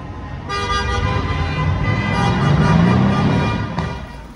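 A car horn honks on a busy Berlin street, one long sustained toot over steady traffic noise, loud and close, lasting most of the moment before cutting off.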